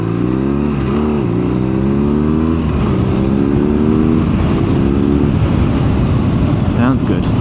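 BMW R nineT Urban GS motorcycle engine revving up and down, rising and falling harmonic whine over a throbbing low rumble, close and loud, with wind noise and a brief voice near the end.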